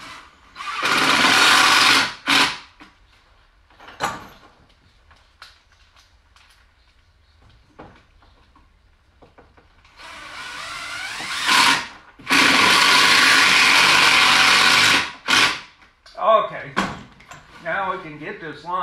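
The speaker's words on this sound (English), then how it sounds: "Let me put a couple of screws in down here." Power drill driving screws into a wooden craft table, heard as a few loud sustained whirring bursts separated by quieter pauses with handling knocks, close by.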